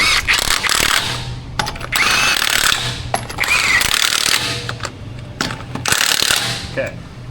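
A ratchet and socket work on a Toyota Tacoma 3.6, giving several loud, close bursts of fast ratcheting clicks separated by short pauses.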